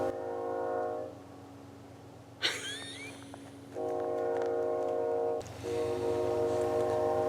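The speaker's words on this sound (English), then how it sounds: "there's a train going by in the background" A train rumbles past in the distance in a small town in central or eastern Washington State, its horn sounding in long repeated blasts over a steady low roar of rail cars.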